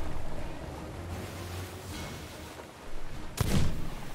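A cannon fires in the pirate video game Sea of Thieves, one sharp blast near the end over a bed of ocean waves and wind.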